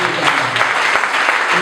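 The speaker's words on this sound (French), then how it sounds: "Et on applaudit" Wedding guests clap briefly at a Brazzaville wedding reception, a short burst of crowd applause with a few sharp individual claps standing out and some talk mixed in.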